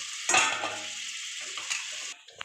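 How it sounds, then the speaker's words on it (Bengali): Hot water poured into a pan of frying aar fish and oil for a Bengali tel kosha; a sharp burst of hissing sizzle erupts, then settles into a steady bubbling fry before cutting off near the end. "গরম জলটা আমি ঢেলে দিলাম"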